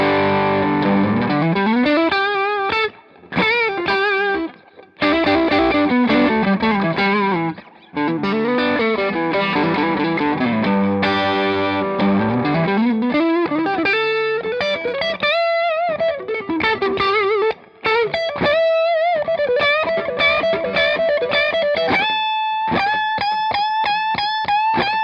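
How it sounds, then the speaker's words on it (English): Electric guitar through a Hamstead Artist 20 RT combo amp driven by a Boss SD1 overdrive pedal, playing gritty riffs, slides and chord stabs with brief pauses, loud and up front, alone without talk. "I've just got one pedal going to be kicking in right now, and actually it's a Boss SD1, a super affordable overdrive pedal."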